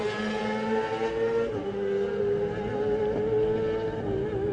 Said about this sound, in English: you can hear the revs going up for number 29, Sam West on the PRL Kawasaki.